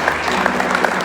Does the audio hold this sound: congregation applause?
yes